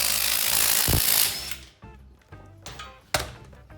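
A battery impact gun with a 17mm socket zaps loose the rear wheel nuts of an E87 BMW 1 Series, a loud buzzing whirr up front followed by several sharp clanks and thunks of the socket and nuts.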